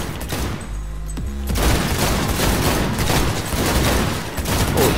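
Gunfire in Cyberpunk 2077: close, loud bursts of rapid automatic shots pounding almost continuously after a brief mechanical clack, with sharp cracks repeating in a fast rhythm throughout.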